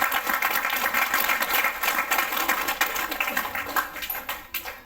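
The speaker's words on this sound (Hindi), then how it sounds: "ताली बजाओ।" An audience claps steadily and densely at an International Women's Day gathering in Bhuna, Fatehabad. The applause stays loud throughout, then thins into scattered claps near the end, with no talk over it.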